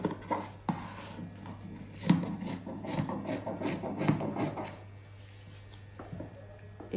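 Scissors cut blouse fabric around a paper pattern on a table, giving a series of soft rasping snips and rubbing strokes, close and fairly quiet, with no talking.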